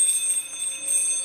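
Bells ring in a steady, sustained metallic tone with lingering high overtones, bright and even throughout a short stretch with no voices.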